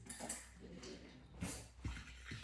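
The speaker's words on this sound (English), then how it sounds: "Get a fork to whisk this." A fork whisks protein powder batter in a bowl, giving a few quiet scraping strokes and light metallic clinks against the dish at close range.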